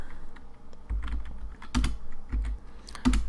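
Keys clicking on a computer keyboard as code is typed, a few quick irregular taps and clustered keystrokes, close and fairly quiet with no talking.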